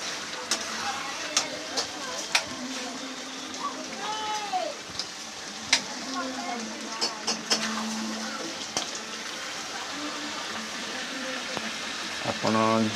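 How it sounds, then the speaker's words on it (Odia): Chicken and potato curry in oil and spices sizzles and crackles in a pan as water is added, a steady hiss with scattered pops, while someone talks over it. "ଆମେ ଏବେ ତା ଦେହରେ ପାଣି ଆଡ଼୍ କରିବା।"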